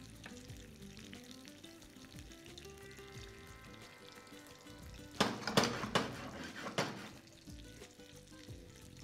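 Chicken frying in a pan, a quiet continuous sizzle with soft clinks and a burst of louder scraping and stirring midway, no talking.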